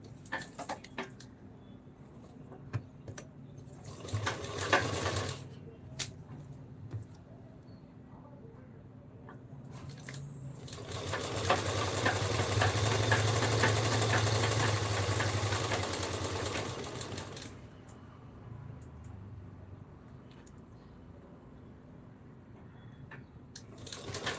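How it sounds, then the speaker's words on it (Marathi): A sewing machine stitches lace onto a small dress, a steady mechanical whir running for several seconds mid-clip, with quieter short bursts of stitching before it and faint handling noises around. "आणि अशी इथे शिलाई मारून लेस अटॅच करून घ्यायची आहे"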